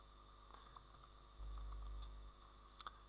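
Soft clicks of typing on a computer keyboard, a few scattered keystrokes entering a terminal command, faint and close in a quiet room.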